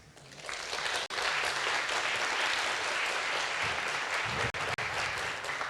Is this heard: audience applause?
yes